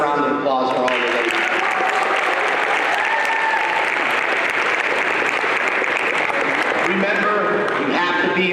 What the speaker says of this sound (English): Can we please have another round of applause for all the ladies?